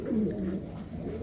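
A pair of Andalusian pigeons at a pigeon sale center gives low, steady cooing, close and continuous over soft background hum.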